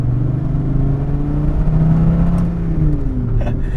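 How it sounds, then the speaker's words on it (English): A 2008 Dodge Viper ACR's V10 engine drones loud and close, its pitch rising and falling as the throttle is blipped for downshifts, with no voices over it. "Like when you're blipping the throttle for downshifts, you gotta give it a nice little kick to make sure it revs up."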